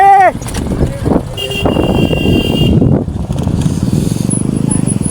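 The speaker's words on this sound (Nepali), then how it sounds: "बाइक चाहिँ खोलादेखि जाँदैछ" A motorbike ridden through a river beside a rough village bridge on Holi, its engine revving and rumbling close by amid splashing water, with voices and wind noise over the microphone.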